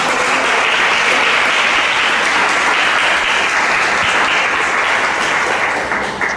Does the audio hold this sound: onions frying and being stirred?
no